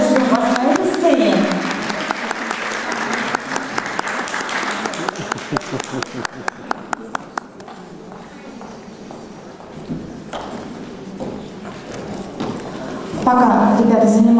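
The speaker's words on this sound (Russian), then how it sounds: "под ваши аплодисменты ребята сейчас выйдут на сцену" Loud applause from a festival audience, with rapid claps dense at first, then thinning into scattered clapping before swelling again at the end.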